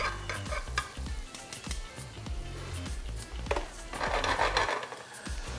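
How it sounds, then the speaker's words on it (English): Minced garlic cooking in a pan for mussels in white sauce, a soft sizzle beneath repeated stirring taps and scrapes of a utensil against the pan, with a brief louder burst of frying toward the end, close and alone. "we want to cook the garlic out because nobody really likes the raw garlic in the mouth"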